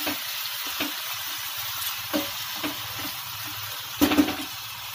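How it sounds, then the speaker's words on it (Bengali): Potato frying in a pan for a savory vermicelli dish, a continuous close sizzle with occasional soft stirring scrapes, the loudest cluster near the end. "এবার আলুটা ফ্রাই করে নেব ভালো করে"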